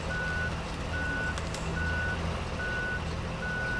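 A truck with a trailer backs up, its reversing alarm sounding steady, evenly spaced beeps over a constant engine rumble throughout.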